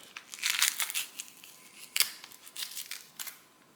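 Skin peeled off a green plantain: a series of close, crisp crackling and tearing rips in quick irregular bursts, quiet between pulls.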